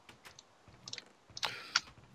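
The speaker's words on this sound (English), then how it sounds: "You probably are hearing Mr. Clickety Keyboard over there." Scattered computer keyboard clicks in a quiet room, a few soft taps followed by a short, louder burst of clicking near the end, with no talking.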